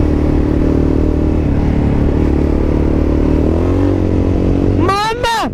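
A Yamaha MT-03 motorcycle engine rumbles loudly and continuously up close, and a voice exclaims over it at the very end.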